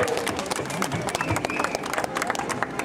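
Crowd applause at a French street protest staged as a mock game show, dense steady clapping mixed with crowd babble and voices.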